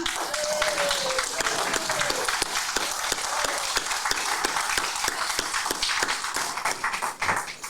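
Audience applause at a Rotary annual banquet for the flag volunteers, a dense, steady roomful of clapping that holds loud and unbroken throughout.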